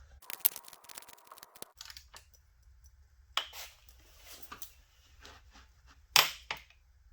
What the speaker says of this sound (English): That's the torque wrench saying it's at the specified torque.